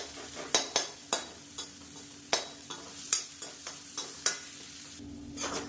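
Garlic sizzles steadily in hot oil in a pan, with a series of sharp scraping taps from a stirring utensil punctuating the frying, close and fairly loud, with no voices.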